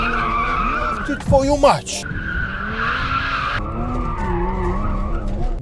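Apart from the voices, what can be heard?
Porsche Macan GTS tires skidding while drifting sideways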